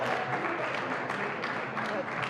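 Audience clapping at a high school band concert during letter awards, steady dense applause from a crowd in an auditorium, continuing for a couple of seconds at moderate volume.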